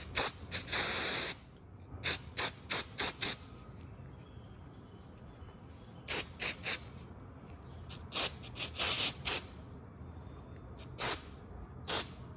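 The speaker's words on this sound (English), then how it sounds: "Then we'll get some brake cleaner. Give it a few sprays." Aerosol brake cleaner sprayed onto the transaxle of a Porsche Cayman 986/987 during a gear oil change, in repeated loud hissing bursts, some long and many short, separated by quiet pauses.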